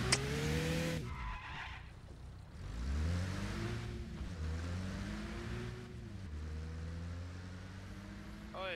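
Car engine in Arma Reforger revving up and down repeatedly, with several rising whines and tire squeals close by and loud, broken by short gaps.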